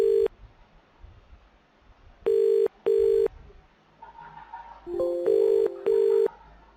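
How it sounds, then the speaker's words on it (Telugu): A PC-to-mobile call rings back with repeated electronic tones in short paired bursts, clear and fairly loud, separated by quiet gaps, with a lower overlapping tone joining toward the end. "ఫోన్ రింగ్ అవ్వడం గమనించవచ్చు మీరు"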